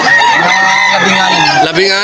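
Chickens being sold at a busy pet market in Malolos ahead of Christmas, with loud, continuous clucking and crowing close by, mixed with voices talking.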